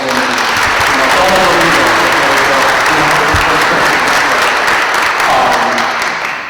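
Loud, dense audience applause fills a school auditorium during a State of the School address, a continuous roar of many hands clapping at full strength that holds steady throughout and tapers slightly at the end.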